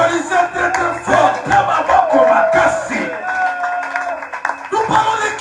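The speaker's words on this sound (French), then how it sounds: "Applaudissez très très fort." A church congregation at a Sunday service claps and cheers loudly, with whoops and shouts rising over dense rhythmic clapping and voices calling out throughout.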